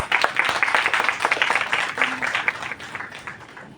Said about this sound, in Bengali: আপনারা জোরে একটা হাততালি দেবেন সকলে